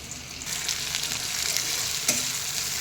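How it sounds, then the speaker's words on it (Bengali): Dry red chillies and fennel seeds crackle and sizzle in hot oil for a khichuri tempering, a steady bright frying hiss with one sharper pop near the end, with no voices. "শুকনো লঙ্কা আর মৌরি এদিকে আমি ভেজে নিচ্ছি"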